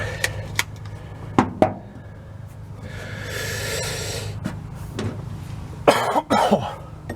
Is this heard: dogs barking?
no